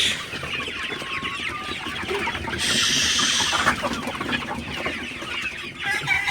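Chickens in a well-ventilated poultry shed cluck and chatter continuously, many birds overlapping at close range, with a brief louder squawking burst midway and no speech.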